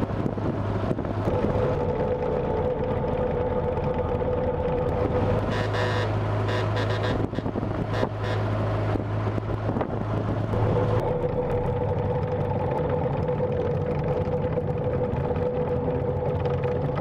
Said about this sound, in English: But this one, you just pull it, it starts right up,